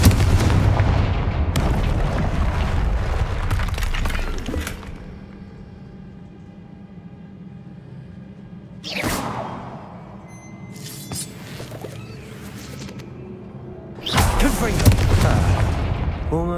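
A Confringo blasting spell explodes in Hogwarts Legacy, heard as loud booming bursts near the start, one around nine seconds and another at fourteen, each with a crackling decay over a rumbling low background.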